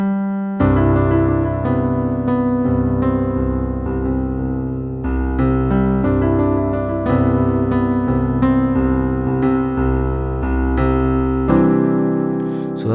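Piano plays the Forever Reign introduction melody up high with a steady left-hand accompaniment, sustained chords ringing under the tune, close and clear for the whole stretch with no voices.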